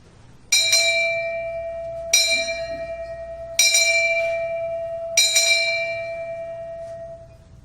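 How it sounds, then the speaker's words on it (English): A bell is struck in pairs at a military retirement ceremony, four ringing double strikes spaced about one and a half seconds apart, each clear tone decaying slowly in a quiet hall. "Chief Honeycutt, the 8 bells means the end of your duty."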